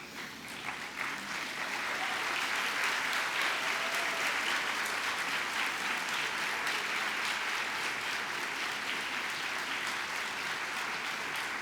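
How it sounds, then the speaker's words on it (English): Graduation audience of graduates and families gives a big round of applause for supporters; thick, continuous clapping swells in over the first second or two and then stays full and steady. "give a big round of applause to all those people who have supported you"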